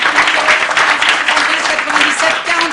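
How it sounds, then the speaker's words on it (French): An audience applauds steadily at a French TV talent tryout to pick an opening act for a comedian, a dense, close wash of clapping that holds at an even level throughout with light voices mixed in. "Allez, on vous applaudit, on vous encourage."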